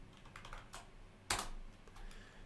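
A few soft, close clicks of typing on a computer keyboard, followed by one sharper, louder keystroke midway, then faint tapping.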